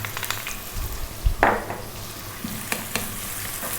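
Chopped onion and garlic sizzle in a hot pan with chili flakes while a utensil stirs and scrapes, a steady frying hiss broken by a few clear scraping strokes, no voices.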